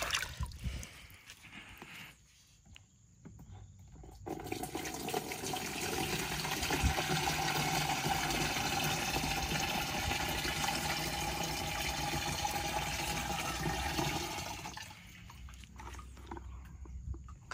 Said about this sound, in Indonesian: Mari kita tuang ke cap sprayer.